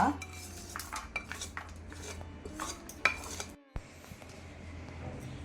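A spoon scrapes and clinks against metal cookware several times as cooled poha is moved into a pot, close and fairly quiet.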